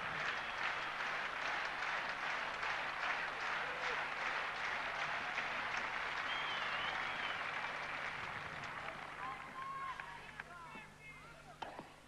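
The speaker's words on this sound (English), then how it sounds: "Now the crowd gets into it." Big crowd applause at the 1992 French Open women's tennis match between Steffi Graf and Arantxa Sanchez Vicario, a steady roar of clapping at match point that continues for the whole stretch and eases slightly near the end.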